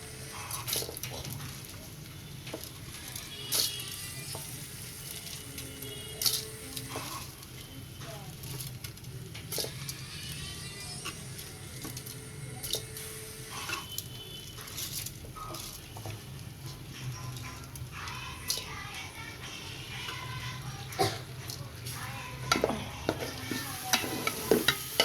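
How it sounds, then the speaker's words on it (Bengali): Rice and lentils being stirred into spices in a pan for chicken khichuri bhuna, a soft continuous sizzle with repeated scraping strokes and light clinks, close and fairly quiet. "দিয়ে সুন্দর করে নাড়াচাড়া করে নেব।"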